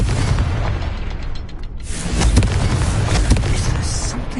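A Confringo fire spell blast in the video game Hogwarts Legacy, heard as a loud, close explosive burst with a rumbling boom. Crackling debris and a second burst follow partway through.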